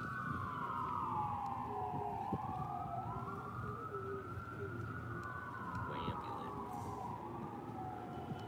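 Two ambulance sirens wail on a street in Barstow, a steady rising-and-falling tone that stays loud throughout with traffic rumble beneath and no talk.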